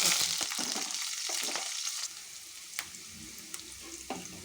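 Cumin, ginger and curry leaves sizzle in a generous amount of hot oil, a bright hissing fry that is loudest at first and then settles, with a few spoon-stirring scrapes and clinks and no talking.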